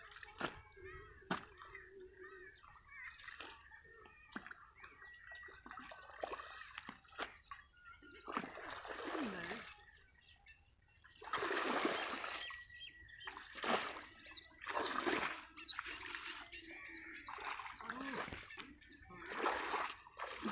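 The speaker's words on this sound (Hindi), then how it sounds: "अब जो इसका नक्का खोल दिया गया और इसमें भी पानी जा रहा है" Irrigation water released through an opened channel gate floods into a farm field, with intermittent splashing and gushing bursts at close range, birds chirping faintly in the background.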